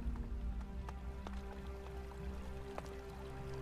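Rain falls steadily in the ELEX video game world, a soft continuous patter with scattered drips and splashes, faint ambient tones underneath.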